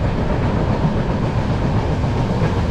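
The Konkan Kanya Express rolls on rails during the monsoon, giving a loud, continuous rumble and clatter of railway carriages that holds steady throughout with no voices.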